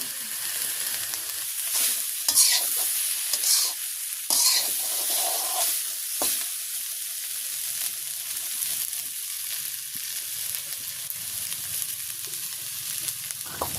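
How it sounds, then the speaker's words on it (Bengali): Onion-stalk bhaji fries and is stirred in a pan in a village kitchen, a steady sizzle with irregular scraping bursts from the stirring, close and moderately loud. "হয়ে গেছে আমার পেঁয়াজ কলি ভাজি"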